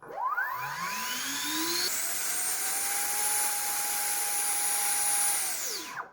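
An installed electric ducted fan in a 3D-printed Harrier STOL jet spools up with rising whines to a piercing high-pitched scream at maximum throttle, holds steady, then quickly winds down.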